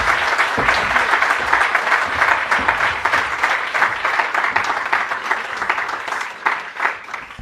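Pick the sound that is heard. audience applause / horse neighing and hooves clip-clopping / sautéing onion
audience applause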